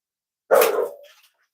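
A single short, muffled bark from a dog outside, sharp at onset and then trailing off, heard alone against silence.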